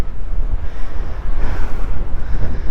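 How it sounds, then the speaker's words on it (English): Steady, loud wind buffeting the microphone in Dahab, Egypt, on the Red Sea, a continuous low rumbling roar with gusts that rise and fall throughout. "Windy."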